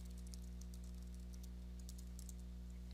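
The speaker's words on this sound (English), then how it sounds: "Omnisharp will suggest keywords as I type" Quick bursts of typing on a computer keyboard in a code editor, light key clicks in irregular clusters, faint and close over a steady low electrical hum.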